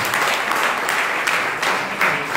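A church congregation applauds steadily, a dense and continuous wash of many hands clapping at close range with no voices over it.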